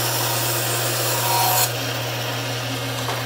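A band saw cuts bevel-angled triangles from wood, the motor's steady hum running under a continuous rough rasping of the blade through the workpiece, which eases off partway through.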